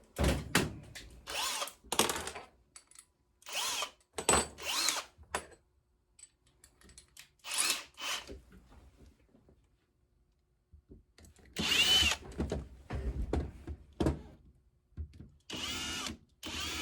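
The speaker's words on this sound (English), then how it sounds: "That drill bit there looked like it might work." A power drill with a salvaged drill bit bores in repeated short bursts, a dozen or so close whirring runs separated by pauses, with quiet handling noises in between.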